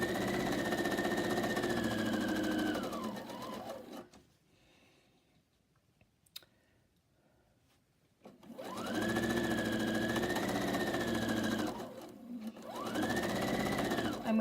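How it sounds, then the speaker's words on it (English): A sewing machine chain-stitches quilt blocks in steady, close runs of about four seconds, then falls silent for several seconds before starting again, with a brief stop and restart near the end. "I'm just going to sew from one to the next."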